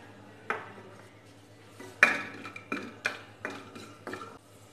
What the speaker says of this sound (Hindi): हमने कढ़ाई में तेल गरम कर लिया है, इसमें हम डाल देंगे दालचीनी, बड़ी इलायची, हरी इलायची, लौंग